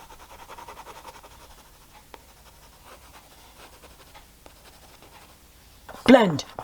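Coloured pencils from the Woomer brand shade lightly over sketchbook paper with a faint, steady scratchy rasp. A brief, louder voiced sound cuts in near the end.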